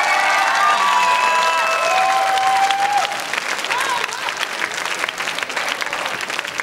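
A studio audience at a televised talent show gala gives loud, dense applause for Grish Aghakhanyan, with cheering and whistles at the start that settle into steady clapping.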